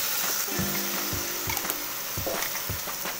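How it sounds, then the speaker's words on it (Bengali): Mustard and poppy seed paste with green chilli and garlic sizzles steadily in a hot pan for a Bengali okra dish, a close, continuous frying hiss broken by a few soft knocks from stirring, with no talking. "বেটে রাখা সর্ষে আর পোস্ত, কাঁচা লঙ্কা, রসুন সবটাই আমি দিয়ে দিলাম পেস্টটা"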